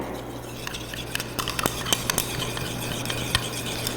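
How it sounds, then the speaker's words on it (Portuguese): A moisturizing foot cream base being stirred in a vessel during compounding, a soft continuous swishing with sharp intermittent clinks of the utensil against the container, close and moderately loud. "Vamos mexer, vamos homogeneizar essa fórmula"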